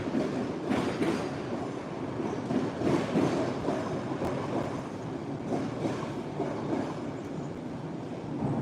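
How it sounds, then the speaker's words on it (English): A commuter train pulls into the platform at Forest Hills station with a steady rumble of wheels on rails and some clickety-clack. Faint squeals sound over the roll as it arrives, moderately distant, with no talk. "Okay, so this train is going to be coming on my platform."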